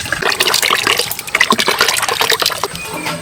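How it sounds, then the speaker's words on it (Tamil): Tamarind water pours into melted jaggery in a pan, a loud, steady gushing and splashing of liquid with bubbling and sizzling bursts, close up and continuous without speech. "புளி தண்ணி சேர்த்துக்கலாம்."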